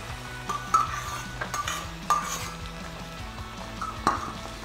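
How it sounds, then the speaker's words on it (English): Pulled pork heating with barbecue sauce in a pan, stirred with a utensil: a soft, steady sizzle runs underneath scattered light clinks and scrapes against the pan, fairly close and moderate in volume. "I'm just heating it up right now in a pan, and into that I'm just going to add in some barbecue sauce."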